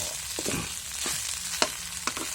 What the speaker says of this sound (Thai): เขาบอกว่าเวลาผัดให้ใช้ไฟอ่อนๆนะครับ ผมก็ทำแบบไฟอ่อนๆนะครับ